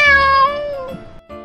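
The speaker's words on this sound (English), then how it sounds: "The sound of a cat is." A single clear cat meow, drawn out and falling in pitch, followed by a short faint second mew.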